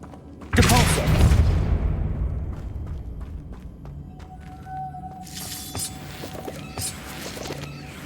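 A Depulso spell cast in Hogwarts Legacy lands as a sudden loud shattering crash. Rumbling debris trails off behind it, then scattered small clicks and thuds follow, and a brighter burst of game effects rises near the end.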